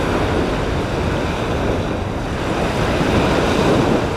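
Strong gusting wind roars steadily around a 3DR Solo drone flying outdoors with dual cameras, a dense, constant broadband rush with no pauses, close to the microphone.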